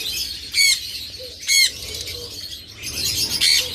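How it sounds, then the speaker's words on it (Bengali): A pair of lovebirds for sale gives a few sharp squawking chirps, with two short bursts of wing flapping close by against a quiet background. "এরপর এখানে রয়েছে চমৎকার এক জোড়া লাভবার্ড, একদম চমৎকার জোড়া লাভবার্ড।"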